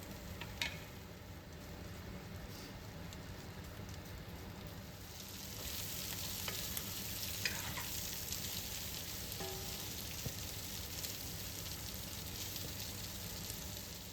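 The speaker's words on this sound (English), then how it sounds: "To a saucepan, add Spanish sausage and sauté for around 5 minutes." Spanish sausage sautéing in a saucepan gives a steady, continuous sizzle and crackle, close and fairly quiet, growing slightly denser partway through with occasional small pops.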